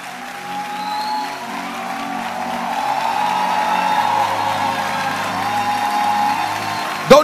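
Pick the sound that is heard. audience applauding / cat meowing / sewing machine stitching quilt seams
audience applauding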